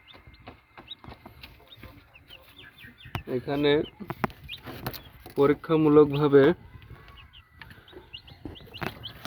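Broiler chicks in a small experimental poultry farm project chirp and cheep softly and steadily in the background, while someone talks over them in two short stretches.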